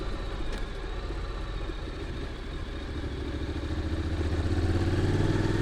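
A Honda NC750X motorcycle engine runs steadily close up while cornering, its drone holding even and then rising slightly in pitch and loudness toward the end as it pulls up through the gears.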